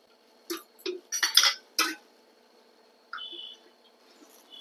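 A metal paniyaram pan is set on a stove in a home kitchen. Several sharp clanks and clinks come in a quick cluster, followed by a softer scrape, all close in a quiet room.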